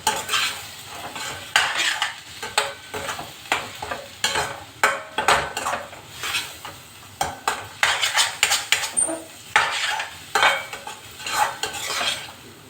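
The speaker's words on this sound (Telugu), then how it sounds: "బాగా కలుపుకోవాలి." Vanjaram fish curry being stirred in a pan, with a utensil scraping and clinking against the metal in an irregular rhythm, close up and fairly quiet, with faint sizzling between strokes.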